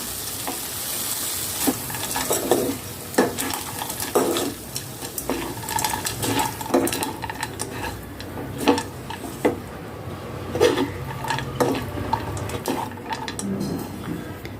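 Street-style Chinese bhel with oregano and spring onion is tossed in a pan or bowl, with repeated rhythmic scraping and clinking of a spoon against metal over a faint sizzling background; no talking.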